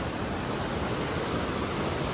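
Swollen muddy river in Uttarakhand rushing as a dense, steady broadband roar of water, close and loud, with no voices over it.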